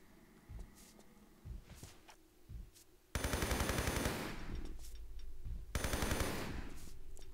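MP5 gunfire in the video game Tomb Raider III: fainter scattered shots open the stretch, then two loud sustained bursts of rapid automatic fire, the second after a short pause.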